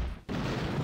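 Gunfire in the Battle Academy game arrives as a dense, rumbling roar of shots that starts abruptly after a brief hush and holds steady and loud to the end.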